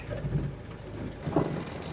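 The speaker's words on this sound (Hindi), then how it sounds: "इतनी ज़्यादा मूसलाधार बारिश आ रही है" Heavy monsoon rain pours down beside a waterfall on a mountain route, making a steady, dense wash of noise with a few low rumbles and no talking.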